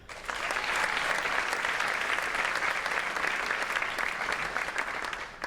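Sustained applause from a large audience at a high school awards ceremony, a dense steady wash of clapping that rises quickly and holds for several seconds.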